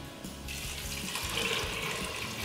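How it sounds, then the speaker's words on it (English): Water pouring into an Instant Pot over soaked black beans, a continuous rushing splash that starts abruptly and stays steady and close. "so let's add the rest of the water"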